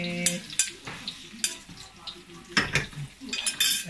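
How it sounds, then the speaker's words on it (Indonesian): Shallots and garlic for a chili spice paste are stirred into a hot pan, giving crackling sizzle broken by sharp clinks and scrapes of a utensil against the metal, close and busy throughout. "kita goreng rempah kita. Mula-mula kita masukkan bawang merah, bawang putih,"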